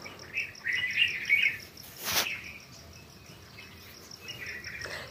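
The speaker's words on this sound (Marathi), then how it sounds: "बघा किती पक्षी उडाली." Morning birds chirping outdoors, with repeated high tweets and calls over a soft insect-like background, moderately near, and a brief louder rustle or burst midway.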